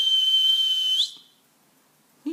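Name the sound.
person whistling to call a dog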